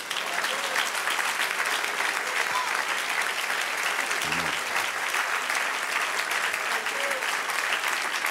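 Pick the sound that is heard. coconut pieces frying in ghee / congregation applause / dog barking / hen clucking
congregation applause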